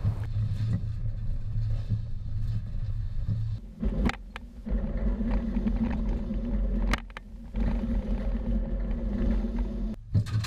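On a test course slalom, a vehicle towing a K2 Mighty Multi A-Frame utility trailer rolls with a low steady engine rumble and mechanical rattle, broken by a few brief clunks and short lulls.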